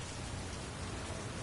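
Steady, dense pouring rain from the video game Heavy Rain, a constant full hiss of downpour with no pauses, moderately loud and without any voices over it.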